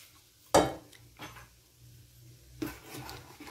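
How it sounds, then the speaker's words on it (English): A whisk scraping and clinking against a pan as white sauce is stirred, two sharp metallic strokes separated by a softer rub, close and otherwise quiet. "It's very important to mix frequently when you're making a white sauce"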